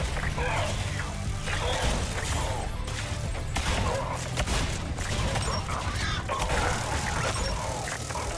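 Sentry turret being destroyed in a video game firefight, with dense gunfire bursts and crashing impacts running continuously throughout, loud and busy with the clatter of battle.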